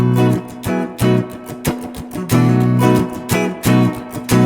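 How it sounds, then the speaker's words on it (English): An electric guitar plays a blues rock progression with dominant seventh chords, bright rhythmic strums in a choppy shuffle pattern, loud and close with no talking. "our progression is going to sound like this"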